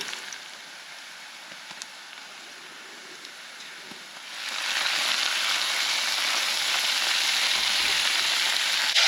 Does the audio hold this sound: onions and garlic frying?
yes